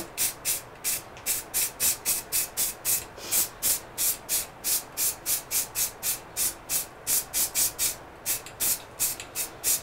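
Rapid bursts of hissing aerosol spray paint repeat in a steady rhythm, dozens of short spurts close by, each a brief airy whoosh.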